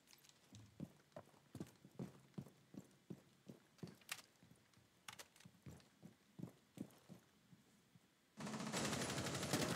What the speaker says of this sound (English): I just shot my own teammate.